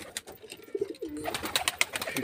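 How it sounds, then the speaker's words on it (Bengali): A male giribaz high-flying pigeon at a loft coos in soft, low rolling phrases, close by, with brief chirps and fluttery rustles around it. "এখানে একটা গিরিবাজ আছে, তো এটা নর পায়রা"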